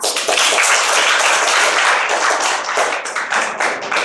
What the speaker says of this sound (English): Please welcome our today's guests, Vandile sir and Pratik sir with thunder of applause.